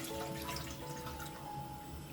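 Water pours from a bowl into a cooking pot, a steady splashing, trickling stream with a faint ringing tone from the vessel, continuous and close for a couple of seconds, with no talking.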